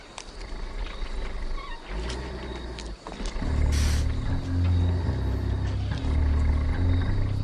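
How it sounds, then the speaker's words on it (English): A truck engine in the film Maximum Overdrive idles with a deep, steady purring rumble that swells in after a few quiet seconds and holds close and loud, with no talking over it. "Truck sounds like it's purring."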